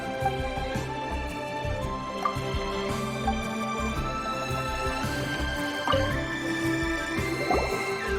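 Water is fetched and poured in the video game Genshin Impact: a run of dripping and trickling liquid sounds with soft splashes, set against steady tonal game music and heard without speech.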